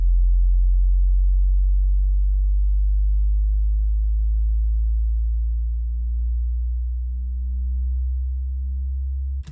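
A low, sustained synth riser in FL Studio 20 slowly glides upward in pitch for several seconds, with low shelf turned down and a bit of reverb, a smooth rising sweep that cuts off abruptly.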